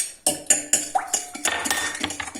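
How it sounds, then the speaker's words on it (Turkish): A utensil clinks briskly against a bowl while milk, olive oil and eggs are stirred together. The sharp taps come in a fast, regular rhythm, close and clear. "Önce sıvı malzemelerimizi bir karıştıralım."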